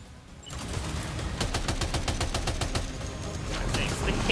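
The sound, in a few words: gunfire from a gun in the video game Death Stranding 2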